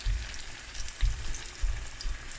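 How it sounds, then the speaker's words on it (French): Salt cod fritters dusted in flour sizzle and crackle steadily in deep frying oil, a close, even hiss with soft low bubbling pulses and no talking. "on les met frire dans notre huile à friture"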